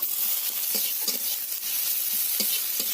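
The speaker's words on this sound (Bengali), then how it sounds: "পেঁয়াজ ভাজা ভাজা হয়ে গেছে এতে দিয়ে দিতে হবে কুচিয়ে রাখা টমেটো" Sliced onion and chopped tomato frying in a pan for a village-style okra dish, a continuous dense sizzle broken by several sharp spatula scrapes and taps against the pan, close and without speech.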